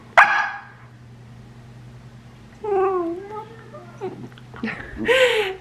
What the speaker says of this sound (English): she's barking at her bone.